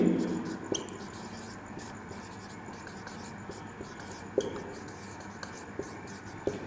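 An equation is being written during a maths lesson, heard as faint scratchy writing strokes with a few sharp taps, close but quiet under a low voice speaking.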